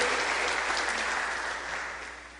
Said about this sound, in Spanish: Les damos un fuertísimo aplauso de bienvenida al Templo Josué